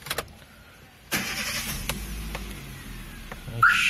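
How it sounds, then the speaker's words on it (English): A Chevrolet Beat's engine cranks and catches, then settles into a low, steady idle heard from close by, with a brief electronic chirp near the end. "let me start my engine."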